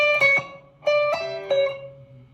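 Electric guitar plays the closing phrase of a lick from the 5/10/1978 show: three short bursts of plucked notes with a gap after the first, ending on a sustained tone, clean and close with no speech.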